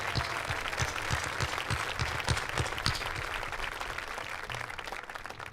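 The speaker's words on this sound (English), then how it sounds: "Let's give him one more round of applause" An audience at a school senior awards ceremony gives one more round of applause for an honoree, dense continuous clapping from many people, fairly loud and close, tapering slightly near the end with no talk.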